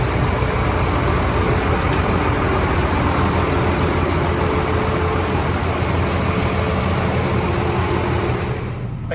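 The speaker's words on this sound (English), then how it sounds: "But we'll shut this truck off and leave." A truck's heavy diesel engine idles loud and close with a deep steady rumble, winding down and dropping off at the very end as it is shut off.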